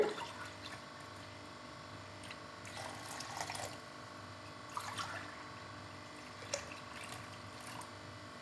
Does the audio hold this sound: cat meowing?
no